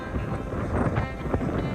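Strong gusts buffet the microphone on a coastal walk between Faversham and Whitstable, a dense low roaring rumble that swells and flutters throughout with no voices.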